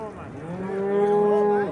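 A single long, low moo from a cow at a cattle market, close and loud, swelling and holding steady before trailing off.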